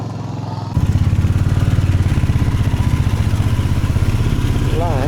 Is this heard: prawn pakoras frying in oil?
no